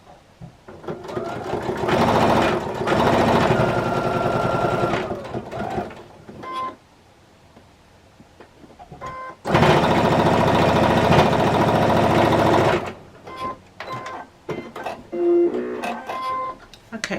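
A sewing machine stitches a quarter-inch seam on jelly roll quilt strips for a tote bag, running in two long bursts with a quiet pause and small clicks between, close and loud.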